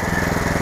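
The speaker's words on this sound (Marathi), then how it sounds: "त्यामुळं मशीन कटिंग करतंय." A power weeder machine cutting through soil on a farm, its engine giving a loud, close, continuous rattling chug with rapid rhythmic pulses.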